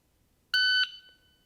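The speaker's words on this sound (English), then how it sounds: "Reaction to the timer, specifically the tone and reaction time. I want you to listen to the actual tone itself." A shot timer's start beep sounds once, a loud, steady electronic tone of about a third of a second that stops sharply and leaves a brief faint ring, with quiet before and after.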